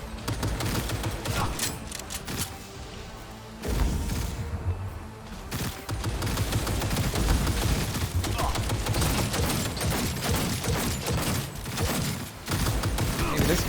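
Dense video game gunfire crackles in rapid bursts and fusillades, loud and nearly continuous with brief lulls, mixed with mechanical clanks.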